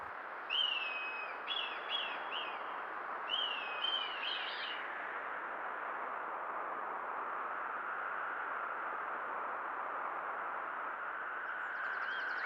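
Birds in a mountain gorge with fir trees give a few clear chirping calls in short bursts early on, then fall silent under a constant hiss of rushing water or wind.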